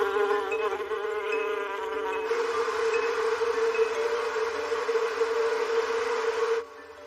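Bees buzzing around a flowering Cercis forest pansy tree in a garden, a dense continuous hum that holds steady for several seconds and then fades slightly, with no voices.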